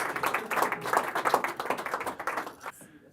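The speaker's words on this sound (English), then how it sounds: "Give her a big round of applause." Audience applause after a card trick at a magic show, a few seconds of mid-level clapping with some voices mixed in, fading out toward the end.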